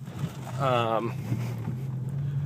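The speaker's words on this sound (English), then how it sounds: "you can kind of hear the exhaust like right off idle" A car exhaust with the muffler removed rumbles in a low, steady drone just off idle, while a person speaks briefly over it.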